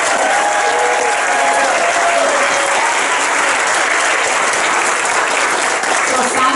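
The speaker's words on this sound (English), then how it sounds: "let's have a huge round of applause for our Grand Master of Ceremonies, Simon Marco." Loud, sustained applause from a large crowd at a school graduation ceremony, even and continuous throughout with no break, with faint voices mixed into the clapping.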